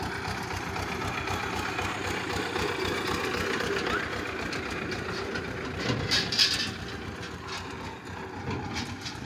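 Tractor carrying an elephant, its engine running steadily with a continuous low, rattling drone close by, plus a slight swell in the loudness toward the end.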